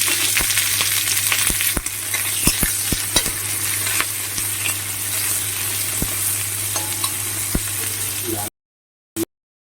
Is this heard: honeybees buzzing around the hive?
no